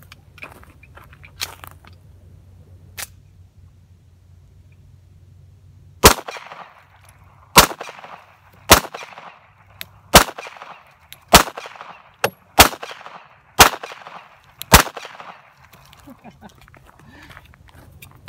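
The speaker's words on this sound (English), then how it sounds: "Let's shoot at the pumpkins." A .45 ACP 1911 pistol with an 8-round magazine is fired at pumpkins outdoors: a voice talks first, then about eight sharp, loud single shots crack at a steady, fairly quick pace with brief echoes between them.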